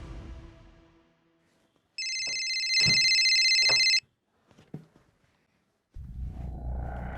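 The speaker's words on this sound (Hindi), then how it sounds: "फोन उठाओ।" A phone ringtone plays loudly in a quiet room as a bright, repeating electronic melody lasting about two seconds, then cuts off abruptly, with faint background sounds and no talking.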